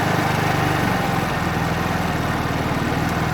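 A 50cc petrol scooter engine idling after an RPM adjustment, a steady close chugging drone with a slight waver in rhythm, no talk.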